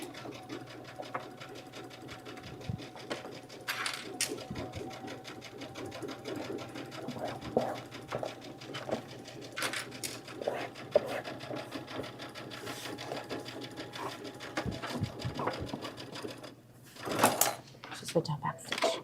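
Domestic sewing machine stitching seams on a box-bottom tote bag with bows, running in bursts of steady whirring with brief pauses, while women chat nearby.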